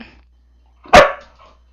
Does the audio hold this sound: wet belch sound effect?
no